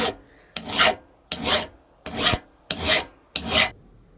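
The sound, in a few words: filing cut aluminium pulley parts with a file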